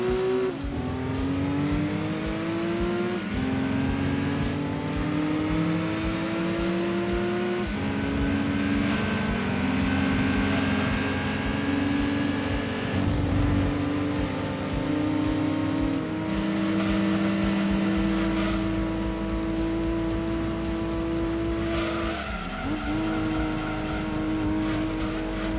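An 80s sports car in Gran Turismo 2 races in GT Mode, its engine droning steadily and loud, rising in pitch through each gear then dropping at every shift, repeating through the run with no voices.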